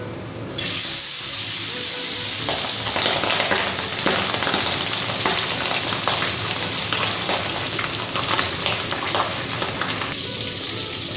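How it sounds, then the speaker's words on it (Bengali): Loud, steady sizzling and crackling of pabda fish frying in hot oil in a kadai, starting abruptly and continuing without a break, with faint clinks now and then. "এবার মাছগুলোকে ভালো করে একটু ভেজে দিই"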